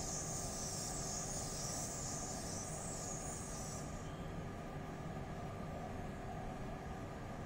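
A TGV Duplex train runs on the Marseille-Avignon line in a train simulator game, giving a steady, broad rumbling drone with a high whine that fades out partway, with no talking.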